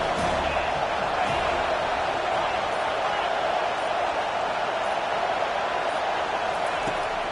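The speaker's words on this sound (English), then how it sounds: "Defense getting a boost from this crowd on 3rd and long." Football stadium crowd roaring steadily for a West Virginia at Florida State game as the defense faces third and long, a dense, sustained wall of cheering that stays loud and even throughout.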